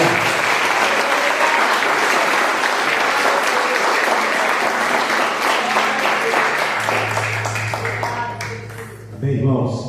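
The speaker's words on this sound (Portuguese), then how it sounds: "A esse Deus maravilhoso, uma linda salva de palmas." A church congregation breaks into loud, sustained applause that fills the room for about eight seconds, then thins and fades, with a low hum and a few voices at the end.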